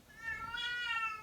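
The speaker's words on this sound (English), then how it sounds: "and that is the cat. She's just going to make herself known." A pet cat lets out one drawn-out meow, fairly faint but clear in a quiet room, with no talk over it.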